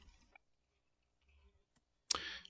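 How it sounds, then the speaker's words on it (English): Keystrokes on a computer keyboard as a Linux root password is typed: a few faint, sparse clicks, then a sharper, louder burst of key presses near the end. "You just type the password"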